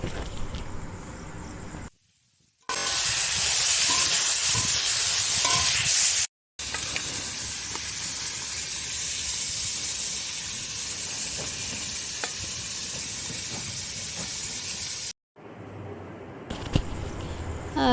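Mixed vegetables for a curry frying in a pan, giving a loud, continuous sizzle broken by a few brief gaps.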